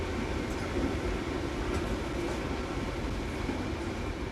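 A passenger train rolls along steadily, a continuous low rumble and rushing hum with faint rhythmic clatter underneath, heard from inside a carriage with no voices.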